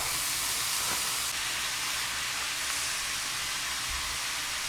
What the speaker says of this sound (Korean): 대패 삼겹살이요 그냥 익을 때까지 그냥 계속 볶아주시면 돼요